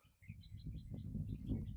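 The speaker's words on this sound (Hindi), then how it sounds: "चिड़ियों की चहचहाहट सुन रहे हो ना आप लोग" Small birds chirp in a short run of high, quick tweets over a low rumbling background, fairly faint and a little distant.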